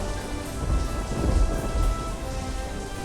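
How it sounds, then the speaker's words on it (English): Heavy rain pours steadily throughout, with low rumbling thunder rolling underneath, swelling and fading across the few seconds. "it's raining so hard, can you hear that?"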